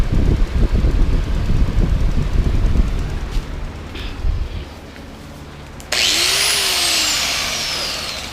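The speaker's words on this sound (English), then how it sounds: "just a little cut-off grinder wheel" Cut-off grinder wheel slicing through an oil cooler line on a turbocharged J32 7th-gen Accord: a loud close roar of rough cutting, then a sudden high whining spin-down as the wheel runs free and slows.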